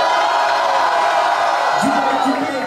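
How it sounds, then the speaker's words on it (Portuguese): Rap battle crowd at a student freestyle event, a steady roar of cheering and shouting with whoops rising near the end, loud and continuous throughout. "Barulhos pra quem gostou das rimas do Derek."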